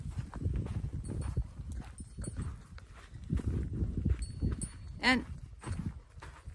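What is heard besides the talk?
horses walking, hooves clip-clopping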